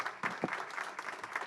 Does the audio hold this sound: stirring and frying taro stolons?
no